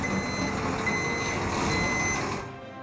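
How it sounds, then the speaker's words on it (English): A truck's reversing alarm sounds steady and close, its evenly repeated tones running over a constant engine-like rumble, then dropping off abruptly near the end. "this sound of a truck backing up"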